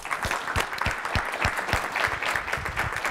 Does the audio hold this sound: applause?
yes